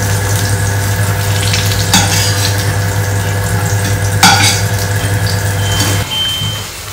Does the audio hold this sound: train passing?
no